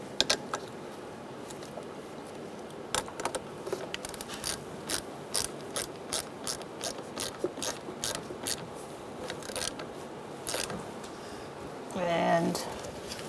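A ratchet fitted with a 10mm socket tightens the negative battery terminal on a 2010-2013 Kia Soul 2.0L four-cylinder, producing a long run of crisp, evenly spaced clicks up close, followed by a brief rustle.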